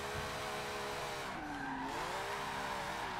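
A Jaguar XJ220 drift build in Forza 7 snaps into oversteer from the rear, its engine droning steadily under a continuous tire skid with a brief dip and pitch swoop midway; loud and unbroken, no voices.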